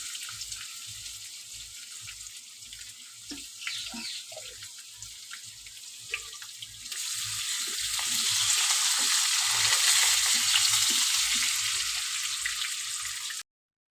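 Live fish fries in oil with a soft, continuous sizzle. Light clinks and stirring sounds come from the pan, and halfway through the hiss swells louder and stays steady until it cuts off.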